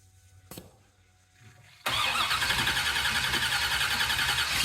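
A 1965 Chevrolet Impala SS engine fitted with Holley Sniper fuel injection cranks briefly and then catches, settling into a loud, steady, close-up running rumble with no one talking.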